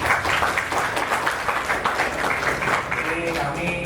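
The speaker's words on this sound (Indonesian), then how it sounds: "Boleh tepuk tangan lagi." Dense, continuous applause from a gathering of new university students, fairly loud and close, with a voice faintly audible near the end.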